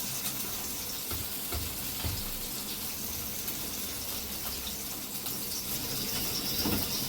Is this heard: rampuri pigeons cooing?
no